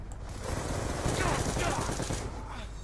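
Sustained automatic gunfire in the video game Black Ops 2, a dense continuous rattle of shots, loud and close for the whole stretch, without clear talk.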